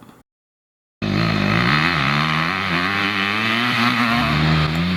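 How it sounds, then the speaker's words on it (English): Motocross bike revving hard as the rider power slides out of a loose, slippery corner, a loud close engine rising and wavering in pitch through sustained throttle after a brief dropout. "pick up that brake slide with the clutch and throttle to power slide out"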